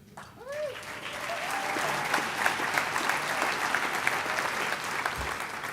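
Audience applause at a Convention of States awards banquet, greeting the finalists as their names are read. Dense, sustained clapping from a large crowd fills the whole stretch after a brief voice at the start.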